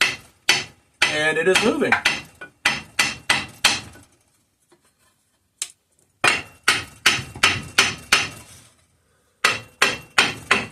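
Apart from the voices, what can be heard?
light hammer taps on cast aluminum Kohler K301 engine part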